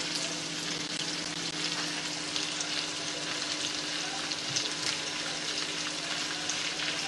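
Eggs cook in a hot pan with a steady, even sizzle and hiss that stays close and constant throughout, with no talking over it.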